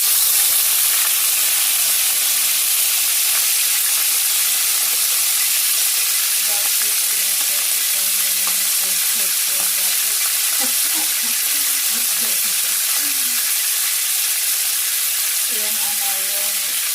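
Chicken thighs fry skin-side down in hot oil for adobo, giving a steady, close sizzle and crackle that runs unbroken throughout.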